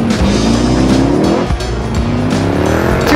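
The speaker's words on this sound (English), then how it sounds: "And we're going for a... Launch control." A 2018 Jeep Grand Cherokee Trackhawk with a supercharged 707-horsepower Hellcat V8 launches hard on launch control, its engine roaring up through the gears with a rising whine and a brief shift dip midway, loud and close, with tire noise.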